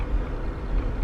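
Car engine rising under acceleration in sport mode right after the gas pedal is tapped, a steady low rumble heard from inside the cabin, brief and unaccompanied by talk.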